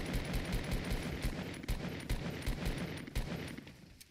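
Fortnite gunfire rattles off in rapid bursts, sharp repeated shots at moderate volume with short gaps, the rhythm loosening toward the end.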